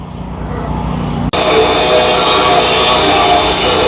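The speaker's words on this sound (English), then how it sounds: "we've got to get this cap cut off and get her cleaned up with a stainless steel wire wheel" A stainless steel wire wheel on a power tool grinds steadily against a fuel tank cap, a loud continuous whine that cuts out for an instant and then resumes even harsher, close up.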